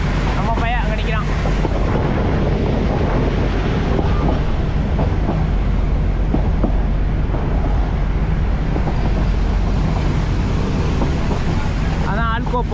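An Alco diesel locomotive hauls the five-coach Mettupalayam–Ooty toy train, making a continuous loud rumble with rail clatter and heavy wind buffeting from onboard, and a voice speaks over it.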